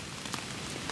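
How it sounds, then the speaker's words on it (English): Steady rain patters on a tarp lean-to shelter, a dense continuous hiss with a few slightly louder drips, close and even with no voices. "the rain does just get in here"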